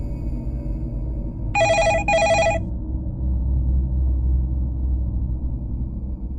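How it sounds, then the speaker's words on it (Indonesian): A telephone in a police station at night rings in two quick bursts of bright, harmonic bell tones over a steady low rumble of background hum. "Dan teleponnya itu berdering"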